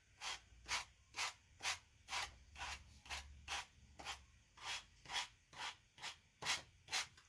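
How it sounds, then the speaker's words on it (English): Rhythmic rasping strokes of a sanding block on wood, about a dozen even back-and-forth passes, close and steady. "Gonna get a little sanding block."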